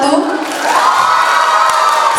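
A school audience cheers and claps loudly for student council candidates at a high school campaign event, a dense sustained roar of voices and whoops that swells and holds steady throughout.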